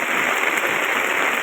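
Heavy rain pours down in Rajula, a dense, steady hiss of drops hitting surfaces, loud and unbroken throughout.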